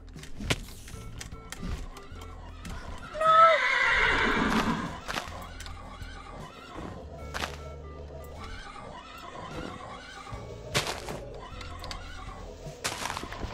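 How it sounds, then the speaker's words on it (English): Minecraft horses make a loud, drawn-out neigh near the start, then softer snorts and occasional hoof clip-clops and clicks spread across a quiet game scene. "so many horses"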